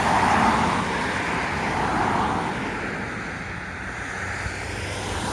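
Steady road traffic rumbles past a roundabout in Stirling, Scotland, a continuous wash of tyre and engine noise that swells at the start and eases slightly, with no talk over it.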